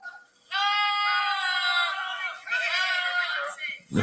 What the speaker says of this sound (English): sometimes those goats they be shouting